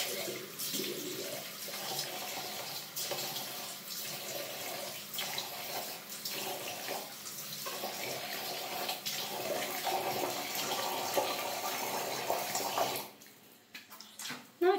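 A bathroom tap runs steadily while someone rinses makeup off their face, a close continuous splashing stream with small splashes throughout, easing off near the end.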